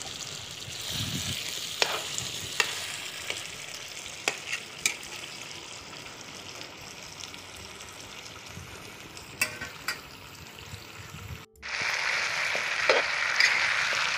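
Duck meat and potatoes fry in a wok for an Assamese-style duck curry, with a soft continuous sizzle and sharp clacks and scrapes from the spatula, then a louder burst of sizzling near the end.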